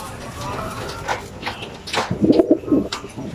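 A pigeon coos in short bursts several times, fairly close, with some background voices and rustling around it.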